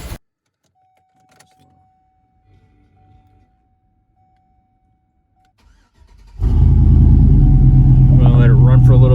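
A 2004 Chevy Silverado pickup truck is heard cranking and starting after an oil change, first near-silence with a few faint clicks and a chime, then a loud engine catches and settles into a steady, rumbling idle.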